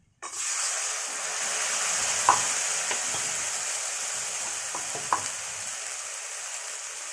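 Ground spice paste, blended in a mixer, fries in a pan over fried onions for an egg curry, giving a steady close sizzling hiss with a couple of sharper spatters and stirring scrapes, no voices.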